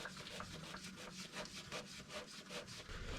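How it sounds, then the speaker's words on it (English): A fuel filter on a 2022 Kenworth W990 truck is unscrewed, making a quiet, rhythmic rasping scrape in repeated back-and-forth strokes. The sound is close but faint, and no one talks. "We'll go ahead and unscrew it. This one usually makes a mess because it's usually so full of fuel."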